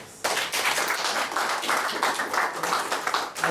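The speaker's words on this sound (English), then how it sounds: "So I think they deserve a round of applause." A crowd of listeners applauding at a health-centre gathering, a dense and fairly steady patter of many hands clapping that swells up after a brief quiet start and carries on without talk.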